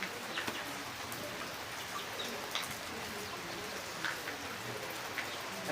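Steady rain pattering on a surface with scattered individual drops, and faint bird calls in the background.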